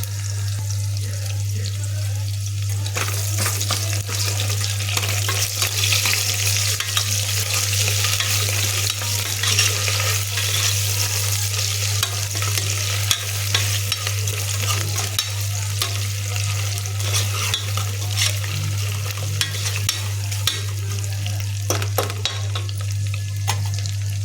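Green chillies, ginger paste and bay leaves frying as a tempering for sambar, a steady sizzle with stirring scrapes and a constant low hum throughout.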